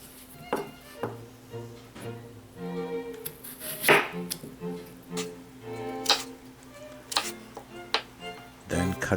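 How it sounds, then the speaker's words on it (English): A knife cuts a peeled potato lengthwise into French fry shapes on a cutting board, giving a series of sharp chopping taps at an irregular rhythm, close by, over a low steady background hum. "take a peeled potato and cut it lengthwise, as if you are going to make French fries"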